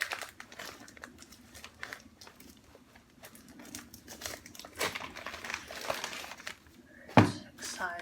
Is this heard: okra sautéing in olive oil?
no